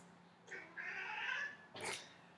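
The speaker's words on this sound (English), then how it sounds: "That's my cat." A house cat gives one drawn-out meow followed by a short breathy sound, faint and close in a quiet room.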